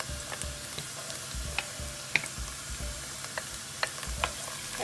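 Tomato paste fries in hot oil with a bay leaf, giving a steady close sizzle while a spoon stirs and scrapes the pan in repeated clicks and taps, with no one speaking.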